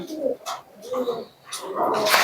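Pigeons coo in a loft of fancy breeds, including Teddy males and Malbai flyers, with soft repeated calls rising and falling over about two seconds while a person talks nearby.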